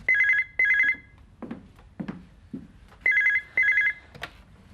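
An old-style telephone bell rings in two pairs of bursts, separated by quieter clattering and knocking sounds, in a quiet indoor setting with no talking.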